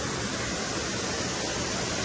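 A waterfall at SeaWorld's Discovery Cove roars close by as a steady, dense hiss of falling water, loud and unbroken throughout.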